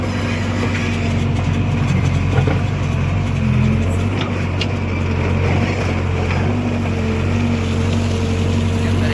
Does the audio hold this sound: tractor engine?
yes